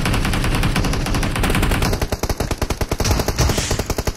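Rapid automatic gunfire from PUBG Mobile rattles in loud, dense bursts, first as a continuous stream and then as distinct fast rhythmic shots, with no talk over it.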